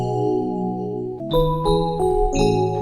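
Bueno X electric piano patch from the Dream plugin: a sustained chord rings out alone, then a fresh chord is struck followed by a few quick note changes, bright and close.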